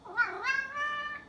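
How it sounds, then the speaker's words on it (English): A pet cat gives one clear, drawn-out meow that rises and then falls, close by and moderately loud against a quiet room. "He's probably going to be meowing a lot in the background."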